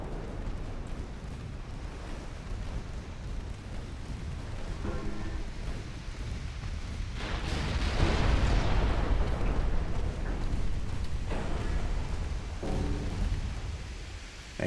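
Secondary guns on a US battleship booming in a naval combat game, a run of heavy overlapping blasts and rumbling explosions that swell to a loud peak midway before easing off, no speech.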